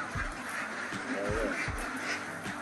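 Ducks on a duck farm quack in short nasal bursts against steady background noise, several calls close together, mid-distance and moderately loud, with faint human voices in the mix.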